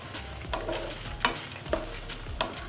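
Dried red chillies and a small ball of tamarind fry in a pan for a garlic chutney, giving a low steady crackle with a few sharp stirring scrapes at intervals, close and moderately quiet.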